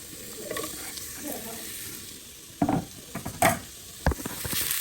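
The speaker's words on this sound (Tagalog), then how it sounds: "Tapos hulog natin yung sibuyas." Chopped onion tossed into a hot sizzling pan while cooking Filipino mussel tinola, giving a few sharp clattering splashes and bursts of frying over a steady background hiss.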